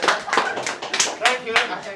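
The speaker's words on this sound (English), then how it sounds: "A round of applause if the asshole is me." Audience clapping at a stand-up comedy night in a pub, bursts of hand claps rising and falling in uneven waves across two seconds, fairly close and moderately loud, with some voices mixed in.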